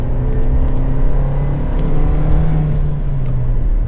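A Suzuki Jimny Nomad with a 4-speed automatic accelerates while holding second gear, a steady engine drone and whir rising gradually under constant road rumble, heard from inside the cabin.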